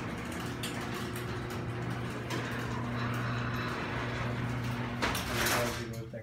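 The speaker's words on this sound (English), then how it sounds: "Garage door open." Garage door opener motor running as the door opens and closes, a steady low mechanical hum with rattling, moderately quiet, ending in a louder clunk near the end.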